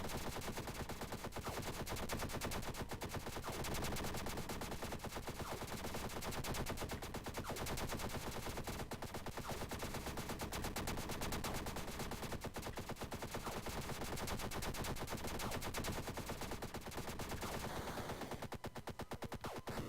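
Rapid, sustained gunfire from a space shooter game, Starfighter Research & Development, roars loud and dense across the whole stretch with almost no let-up.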